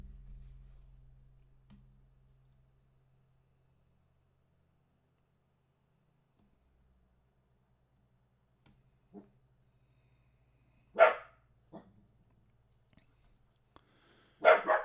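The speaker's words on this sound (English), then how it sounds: "He's barking at something." A dog barks a few times, sharp and separated by long quiet gaps, after a low hum fades out.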